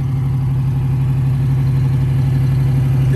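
A 1969 Pontiac Trans Am V8 idles steadily nearby, a loud, even low rumble with a constant throbbing pulse and no voices.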